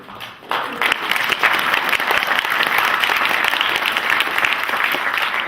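Audience applause at a Sandpoint, Idaho candidates forum in 2014, dense and sustained clapping from a room full of people that swells in after a brief lull and holds steady to the end.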